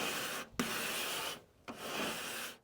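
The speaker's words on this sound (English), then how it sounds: "So I'm going to use this little grater and just run it through on the top and get it all smooth as possible." A drywall rasp scrapes along the cut edge of a sheetrock panel in two long, steady rubbing strokes, each ending in a brief pause, close and fairly loud with no talking.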